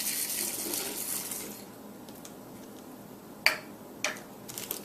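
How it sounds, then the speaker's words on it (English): Rock salt sprinkled onto ice in a bag for homemade ice cream: a soft hiss of scattering grains at first, then a few sharp isolated ticks and clinks as pieces land, close and quiet. "and sprinkle the rest of our rock salt in."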